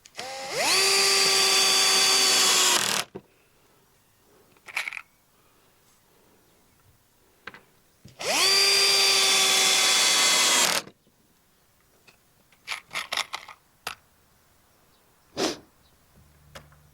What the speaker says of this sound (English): I'll just put a couple of screws in here to hold this in place